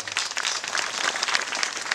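An audience claps for a band, a dense crackle of many hands that is quite faint but continuous for the full two seconds.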